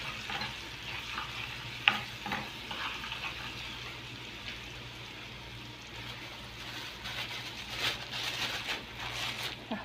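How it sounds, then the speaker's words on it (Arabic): Garlic tasha for a mock trotters soup frying steadily in a pan, a close, continuous sizzle with occasional stirring clinks and a low background hum, no talking. "نعمل طشه بتاعه الكوارع عشان تخلي طعم الشوربه زي المحلات بالظبط"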